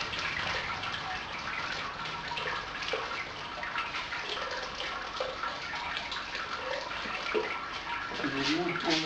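Wort draining out of a Brewzilla brewing system during the sparge, a continuous splashing, trickling water sound that stays fairly quiet and steady throughout, with no talking.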